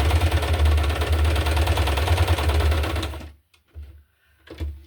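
A sewing machine stitching through a paper journaling card for a junk journal, its rapid mechanical whirring running steadily for about three seconds, then stopping abruptly, followed by a couple of faint handling bumps.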